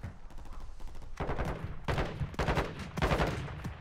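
Warzone 2 video game gunfire crackles in repeated bursts of rapid shots, loud and close, with short pauses between the volleys and no talking.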